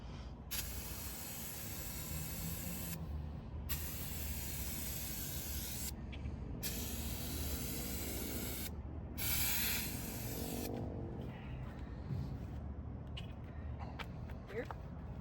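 Bursts of aerosol primer hiss from a turbo spray can onto a Mercury Monterey S-55, several long sprays broken by short pauses, with people talking throughout.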